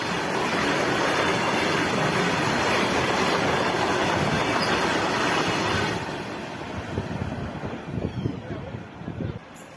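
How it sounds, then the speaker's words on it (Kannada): A goods train rolls along the rails with no loco pilot aboard, a loud steady roar of wagons and wind for several seconds, then easing into lower rumbling and irregular clattering. "ಇನ್ನು ಚಾಲಕ ಇಲ್ಲದೆ ಹಳಿಯಲ್ಲಿ ಓಡೋಕೆ ಶುರು ಮಾಡಿದ್ದು ಟ್ರೇನು ಬರೋಬ್ಬರಿ 5 ನಿಲ್ದಾಣಗಳನ್ನು ದಾಟಿ ಹೋಗಿದೆ."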